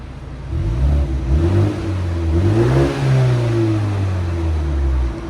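A 2021 BMW M430i with a 2.0L turbo engine and straight pipes revs in sport mode, the exhaust note climbing and falling through loud, close blips that hold a raspy drone between throttle stabs.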